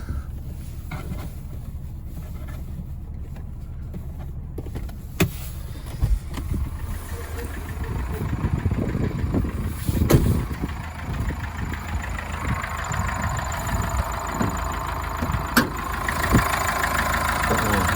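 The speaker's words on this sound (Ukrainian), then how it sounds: "Так рівно працює двигунчик." A Subaru diesel car engine idles steadily at close range, a low even rumble with faint mechanical ticking, no voices.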